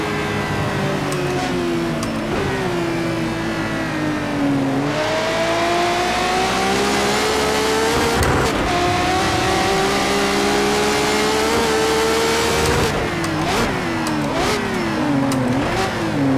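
A car engine in the racing game Project CARS 2 revs steadily and loudly throughout, pitch climbing and dipping with gear changes as it drives uphill, with no talking over it.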